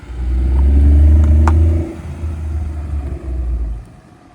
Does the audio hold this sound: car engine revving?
yes